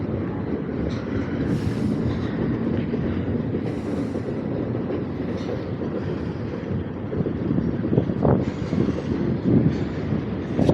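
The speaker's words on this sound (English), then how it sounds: "this is a mixed train of scrap metal." A mixed freight train carrying scrap metal rolls past in downtown Birmingham, Alabama, a continuous loud rumble of railcars with rattling, clanking and brief wheel squeals, speeding up as it passes.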